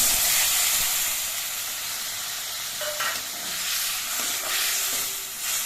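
Mustard-poppy paste simmers in a pan on a gas flame after half a bowl of water goes in, giving a soft, steady sizzle broken by a few spoon scrapes, close but fairly quiet.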